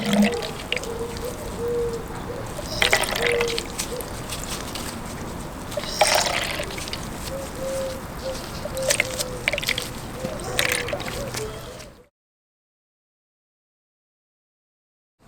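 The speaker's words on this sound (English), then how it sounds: "you can even use a hand pump like this one that removes liquids, again attached to a transparent tube" A hand pump draws motorcycle coolant through a transparent tube, giving steady wet sucking, gurgling and sloshing close by, with periodic louder pulses of liquid flow before the sound cuts out.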